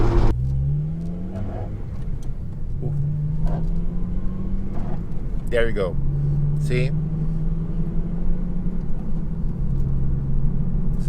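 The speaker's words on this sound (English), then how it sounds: "in the back you can hear the tire scraping inside the wheel well" A Honda Civic Si's rear tire scrapes inside the wheel well while the car turns, a rough grinding rumble under the engine hum with a few scuffing bursts as someone talks briefly.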